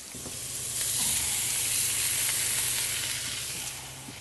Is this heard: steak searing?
yes